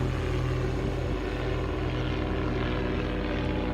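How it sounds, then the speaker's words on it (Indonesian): Silver airplane flying high over the city of Hiroshima, a continuous loud propeller-engine drone that holds steady throughout with no talking. "Sanao Suboi, seorang saksi hidup dan penyintas, saat itu melihat sebuah pesawat berwarna perak nampak terbang tinggi melintas di langit kota Hiroshima"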